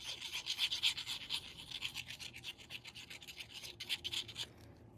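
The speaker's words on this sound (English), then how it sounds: "Sorry, I was leaning on the table." Rubbing and scraping against a tabletop during a craft session, a steady rasping friction with repeated strokes, fairly close and moderately quiet, with no talking.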